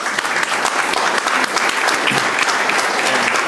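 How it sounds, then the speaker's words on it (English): An audience at a Florida Bar section leadership conference applauds, a dense, steady wash of many hands clapping at once, loud and sustained with no talk over it. "they deserve a round of applause for that"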